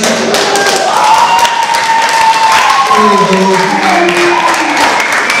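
Loud, steady applause fills a wedding party hall as the bride's family is called to stand, clapping mixed with crowd noise and a voice speaking over it.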